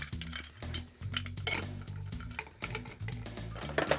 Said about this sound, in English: Next thing we need to do now is obviously ice that up and give it a shake.